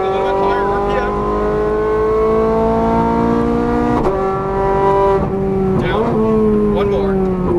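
A Ferrari 430 Scuderia revs high on a race track, its engine tone climbing steadily and dipping at two quick shifts, loud and close, with an instructor's voice in places.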